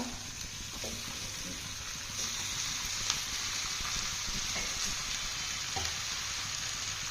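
Chicken frying in a clay pot gives a steady, close sizzle and crackle, with faint stirring clicks and a few sharp pops along the way, and no voices over it.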